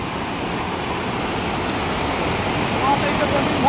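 A waterfall on a Konkan stream swollen after rain, a strong steady roar of rushing water, close and continuous, growing slightly louder near the end.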